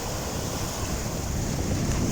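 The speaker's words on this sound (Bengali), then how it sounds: "কি সাগরের কি সাউন্ড আসতেছে" Waves of the Arabian Sea wash steadily along a shore with pebbles and shells, a continuous broadband surf roar mixed with wind buffeting the microphone and no break in the sound.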